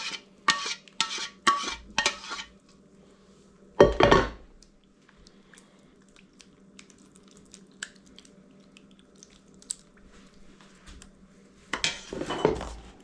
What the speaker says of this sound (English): So we're just gonna add our remaining sauce.